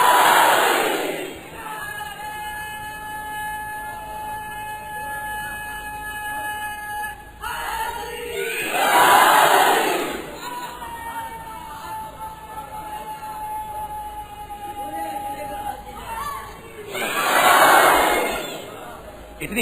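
At a religious majlis, a large crowd loudly recites salawat in three swelling, roaring surges. A steady electronic tone and a voice over a sound system run between the surges.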